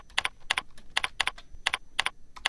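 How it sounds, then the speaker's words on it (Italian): Someone types a search query on a computer keyboard in quick, uneven bursts of crisp key clicks, close and clear, with no talking. "basta scrivere Monte Carlo."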